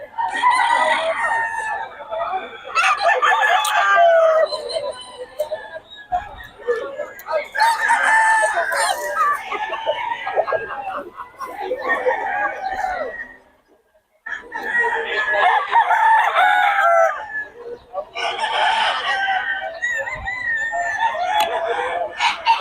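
Chickens and roosters at a poultry seller's yard, several birds crowing in long bursts with clucking between them, loud and close, with brief pauses.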